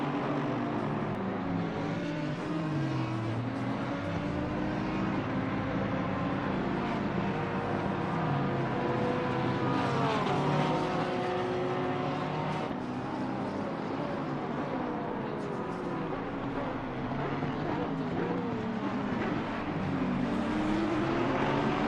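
Racing cars from a racing video game at Circuit of the Americas roar past lapped traffic, including a Lamborghini, with steady loud engine drones and shifting revving pitches sustained throughout.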